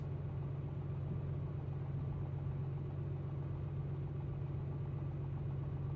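A light aircraft engine idles steadily while taxiing at about 10 knots in bitterly cold weather near minus 40 degrees, giving a constant low drone with an even, unbroken rumble throughout.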